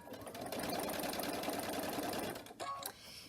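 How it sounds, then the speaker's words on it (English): Sewing machine running a straight stitch, a rapid even mechanical whir close up for over two seconds, then stopping, followed by a brief clatter and a quieter tail. "So I'm just gonna do a straight stitch."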